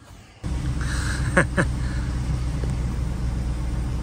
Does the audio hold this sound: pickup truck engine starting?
yes